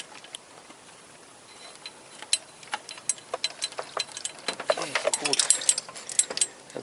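A ratchet tightens engine and gearbox bolts during a clutch replacement on a Toyota Corolla. It gives a series of quick, sharp clicks in irregular bursts that grow denser toward the end, with a voice speaking briefly.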